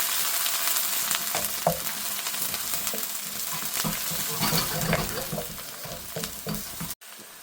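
Onion, ginger, garlic and spice blend frying in ghee for a tikka jalfrezi, a loud continuous crackling sizzle with stirring scrapes, close up, ending in a sudden cut near the end.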